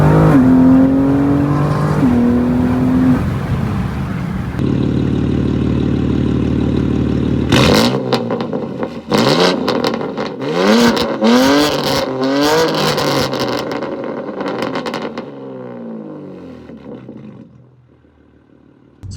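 BMW G80 M3 with a straight-piped exhaust, loud and close, holding a steady roar before sharp revving bursts and throttle blips that crackle and taper off into a quieter idle.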